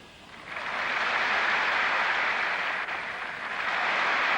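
A Chinese crowd at the 1986 World Cup women's gymnastics applauds a gymnast, a steady loud wash of clapping and cheering that swells after the first half second and holds without a break.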